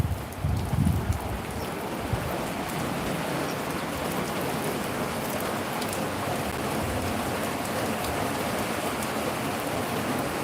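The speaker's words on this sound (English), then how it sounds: "rain is picking up, so I gotta get out of the rain" Steady rain falls hard during a thunderstorm under a tornado warning, a dense, continuous hiss of drops on surfaces that stays even and close throughout, with no voices.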